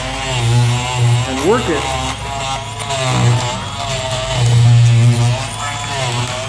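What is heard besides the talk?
Dremel Multi Max electric oscillating scraper tool lifting old tiles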